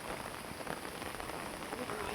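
Heavy rain pouring down during a flood, a dense, unbroken patter on surfaces close by that stays level throughout.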